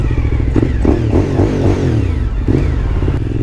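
A motorcycle engine drones loudly and steadily while riding on a cold November day, its pitch wavering and climbing through gear changes, close and continuous with rumbling wind.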